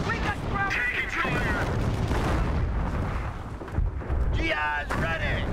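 Heavy gunfire and artillery booms from the World War II strategy game Company of Heroes, a dense, loud battle din under shouted voices of soldiers.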